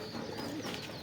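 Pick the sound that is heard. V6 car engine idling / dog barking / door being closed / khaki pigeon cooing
khaki pigeon cooing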